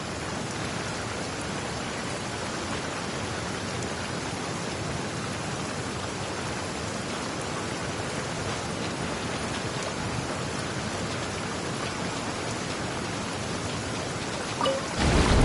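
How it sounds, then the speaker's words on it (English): Rain pours in a video game, with thunder rumbling in the storm, a continuous dense wash of noise lasting the whole stretch, with no voices. "It always rains when I go on an adventure."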